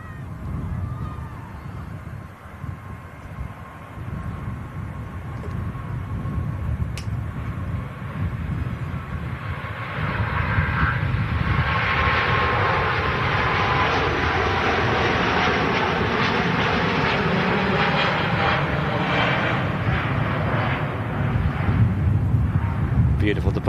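A jet airliner departs Manchester Airport with a broad, rising engine roar that builds and swells partway through and stays loud to the end, with faint voices chatting in the background.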